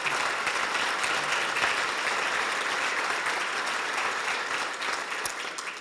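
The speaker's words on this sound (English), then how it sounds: "May I have a round of applause?" Audience applause fills a business appreciation luncheon in Newport News in 2019, a sustained, even wash of many hands clapping that continues for about six seconds and tapers only slightly at the end.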